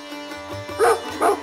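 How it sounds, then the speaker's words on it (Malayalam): A dog at a home garden gives two short, close yips or barks after a soft whimpering lead-in, loud and distinct with no talk. "പരിചയമില്ലാത്ത എന്നെ കണ്ടപ്പോൾ പട്ടി 2 കൊര കുറച്ചു."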